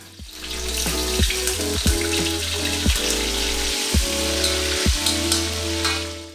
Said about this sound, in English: Then put in the pork belly, cook for around 1 minute.